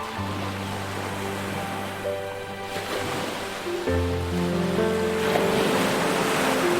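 Ocean waves wash steadily in a continuous surf wash, blended with a soft sustained music bed throughout a calm relaxation and sleep setting.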